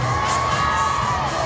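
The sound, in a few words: concert crowd shouting together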